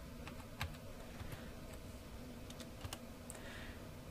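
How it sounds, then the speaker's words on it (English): Steady typing on a computer keyboard, with soft irregular key clicks and a few sharper taps, close by in a quiet room with no talking. "So I'll type large for the size, and I'll try typing with different case to see if the ignore case part worked."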